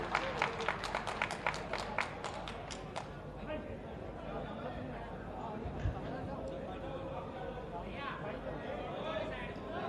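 A large rally crowd claps and cheers in welcome for Yogi Adityanath, Chief Minister of Uttar Pradesh, in Meerut. A burst of sharp, dense clapping in the first three seconds gives way to a sustained, loud crowd roar with chatter mixed in.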